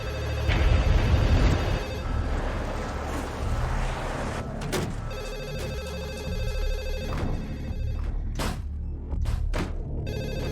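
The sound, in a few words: telephone ringing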